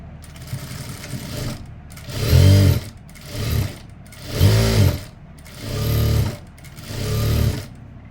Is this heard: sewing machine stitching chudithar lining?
yes